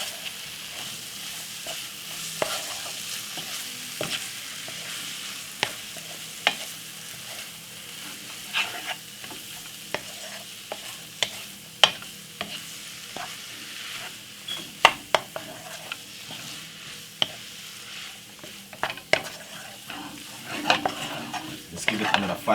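A spoon stirs carrot, butternut squash and mushroom frying in a pan, giving repeated scraping clicks and knocks against the pan over a soft, steady sizzle, close up and without talk.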